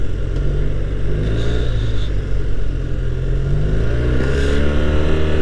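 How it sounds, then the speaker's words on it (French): Yamaha TMAX 500 scooter with a new aftermarket exhaust, a loud close engine rumble with rising and falling revs, continuous and dominant with no talk. "Ah, vous entendez le pot? Le pot, mon pote, il fait des bruits."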